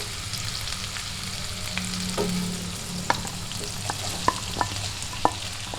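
Bitter gourd and small onions sautéing in a pan for pavakka theeyal, a steady low sizzle with a few sharp spoon clicks and scrapes near the end, no voices.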